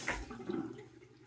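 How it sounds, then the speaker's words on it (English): Short splash and trickle of tap water wetting a double-edged safety razor at a sink, soft and close, fading quickly. "But let me wet the razor."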